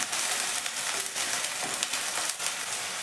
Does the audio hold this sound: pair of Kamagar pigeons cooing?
no